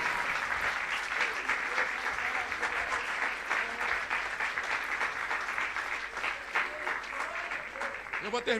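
A church congregation claps steadily and loudly through the whole stretch, a dense continuous wash of applause with cheering voices mixed in, filling the room during a Portuguese-language sermon service.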